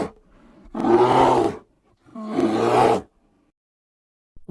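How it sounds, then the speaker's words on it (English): A bear gives two loud, rough roars in quick succession, each lasting about a second, close up and alone with silence between them. "Bear."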